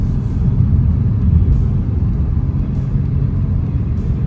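A Toyota GR Supra MK5 A90 driving in sport mode gives a steady, loud low engine and road rumble from inside the cabin, with no clear separate shift events.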